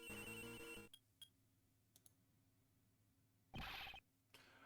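A cell phone rings in the Ace Attorney Investigations 2 video game: a loud electronic ringtone burst opens, then near silence with a few faint clicks, and a second bright ring pulses near the end.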